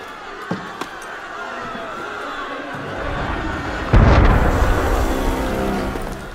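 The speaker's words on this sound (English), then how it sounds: "That was cannon fire." A deep, heavy cannon boom in Assassin's Creed Unity erupts partway through and is followed by a rumbling tail and lingering noise, with a couple of sharper knocks beforehand.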